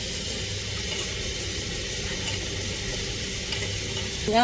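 Broad beans sauté in a pan, a constant close hiss and sizzle with soft stirring scrapes running steadily underneath, no voices.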